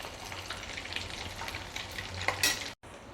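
Homemade butter simmers in a pan as it separates into ghee, giving a soft, continuous bubbling sizzle with a few sharper crackles near the end before it cuts off briefly.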